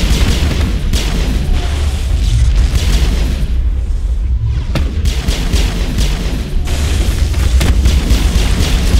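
A grenade blows up in the Mass Effect sci-fi shooter, a loud booming blast amid continuous heavy combat rumble and crackling, with a sharp crack near the middle and no talk.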